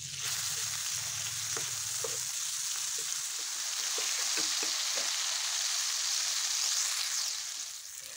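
Chopped tomato frying in hot oil tempered with nigella seeds, a steady close sizzle and hiss throughout with a few soft stirring clicks, no voices.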